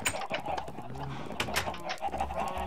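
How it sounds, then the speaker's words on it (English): Chickens in the Minecraft video game cluck in quick, scattered bursts, heard through a voice chat microphone under a low background hum. "These chickens are killing me. I can hear them through your mic."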